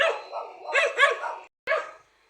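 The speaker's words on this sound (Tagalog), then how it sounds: "Ayun ang aso. Oh, maingay." A dog barks in a quick run of loud, close yaps, pauses briefly, then lets out one more bark.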